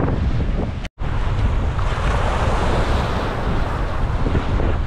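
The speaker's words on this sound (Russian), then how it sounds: "Только что с ног до головы меня просто волной накрыло." Lake waves crash over a breakwater on the Chicago lakeshore, a loud, constant roaring wash mixed with heavy wind buffeting, briefly cut by a moment of silence near the start.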